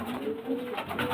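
Chennai breed pigeons cooing, a few soft low throaty coos heard close and quiet, alone without talk.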